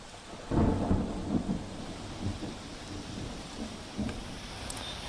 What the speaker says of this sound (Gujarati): મુંબઈના અલગ અલગ વિસ્તારોમાં ધોધમાર વરસાદ